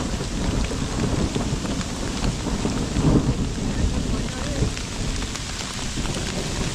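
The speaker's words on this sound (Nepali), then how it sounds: "चट्याङ पनि परिरहेको छ" A rainstorm pours down in a Nepali mountain forest, a dense, steady rush of rain with a deep rumble of thunder rolling through the middle.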